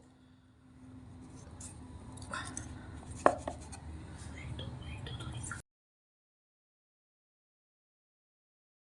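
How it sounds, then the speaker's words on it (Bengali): A knife trims the uneven edges off a sheet of rolled flour-and-potato dough, making light, close tapping and scraping cuts with one sharper knock partway through, under faint background noise, and then silence. "এগুলোকে ফেলে দিচ্ছি সাইড দিয়ে কেটে"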